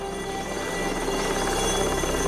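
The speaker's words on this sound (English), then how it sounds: "Our helicopter did return as promised." A helicopter drones steadily nearby, its dense, even whir sustained for a couple of seconds with no voices over it.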